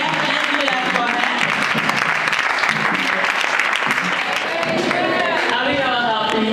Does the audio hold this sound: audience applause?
yes